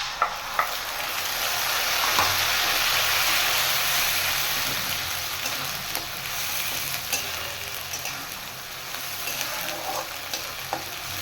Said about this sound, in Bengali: এবার আমি দিয়ে দেবো পেস্ট করে রাখা আদা আর পেঁয়াজ।